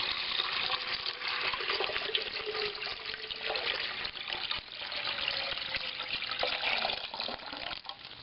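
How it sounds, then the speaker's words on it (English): Untreated water poured into a Megahome countertop water distiller, a continuous close splashing and gurgling stream that swells and eases slightly as it fills, with no talking. "pour your untreated water into here, like that."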